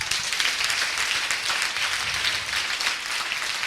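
A church congregation applauds and cheers together, a dense, steady wash of clapping that holds at full strength throughout with no break.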